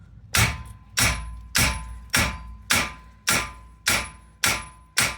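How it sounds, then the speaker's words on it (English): Nine sharp metallic hammer blows on the control arm of a 2008 Chevy Aveo land at a steady, even pace, each ringing briefly before the next strike, close and loud with no talking. "you can use hammer, just hit it over there so that it will come out."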